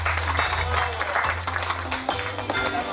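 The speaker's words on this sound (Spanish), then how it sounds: "por quien pido un fuerte aplauso" A crowd at a carnival festival for the outgoing queen breaks into dense, steady applause, a continuous wash of clapping lasting throughout with voices mixed underneath.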